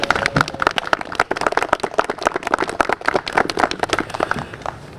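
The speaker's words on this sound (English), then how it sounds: "So a round of applause," A small audience applauds at a Boy Scouts of America charter centennial event, a sparse, lively patter of individual claps close by that runs steadily for about five seconds.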